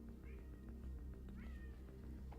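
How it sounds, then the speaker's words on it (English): A house cat meows outside a room, two distinct drawn-out cries heard faintly through the door over low background hum, with no talking. "I just heard my cat meowing outside the room"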